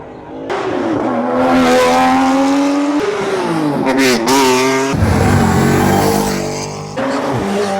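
Race cars at the Simola Hillclimb, with loud, steady engine drone and revving that rises and falls in pitch through gear changes, close and continuous.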